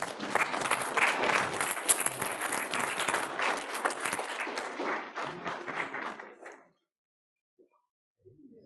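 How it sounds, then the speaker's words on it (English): Audience applause at a city council meeting in Markham, Illinois: loud, dense clapping sustained for about six seconds before cutting off sharply into near silence, with a few faint sounds near the end. "Let's give them a round of applause again."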